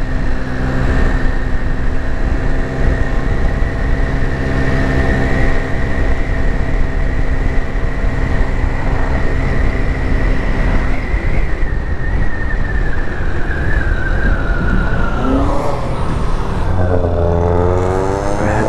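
Ride on a GY6 50cc scooter past a flea market in Turlock, California: a steady droning small engine with heavy wind rush, the pitch holding level then dipping and rising near the end as the rider changes speed.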